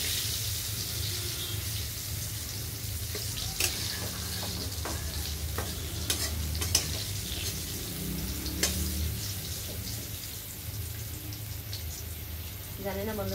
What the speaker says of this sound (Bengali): বেগুনটা একটু হালকা করে ভেজে নিলাম।